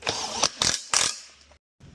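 A 2017 Honda CRF250R dirt bike, back from storage, being kicked over: three sharp mechanical kick-lever strokes in quick succession, close by, then a short pause, with no engine catching.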